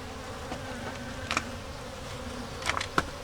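Honey bees buzz around an open nuc hive with a thin population, a soft continuous drone with individual bees zipping past the microphone now and then, a couple passing close and louder.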